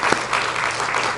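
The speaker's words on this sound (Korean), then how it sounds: "우리 잠깐 일어나시면 우리 환영하는 마음으로 박수해 주셨으면 좋겠습니다." A church congregation claps to welcome visiting guests during a Sunday worship service, a dense, steady burst of applause filling the room for just over a second.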